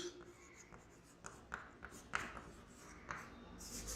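Chalk or marker writing on a board during a physics class comes through as faint, close scratchy strokes and light taps in an irregular rhythm.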